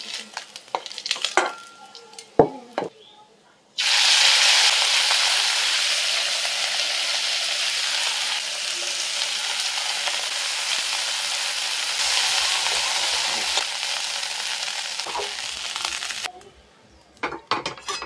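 Fish fries in a pan of oil, a loud dense sizzle that starts abruptly after some quiet clatter, holds steady for about twelve seconds, then cuts off, with a few clinks around it.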